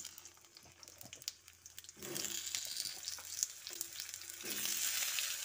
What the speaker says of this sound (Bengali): একটা কড়াই আমি 2 চামচ সর্ষে তেল দিয়ে দিচ্ছি। এবার কিছু আলু ভেজে নেব।